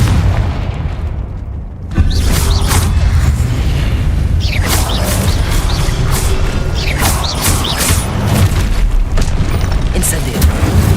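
Confringo spell explosion in Hogwarts Legacy, a loud booming blast that sets off sustained rumbling and crackling, with further bursts layered over the dense combat noise.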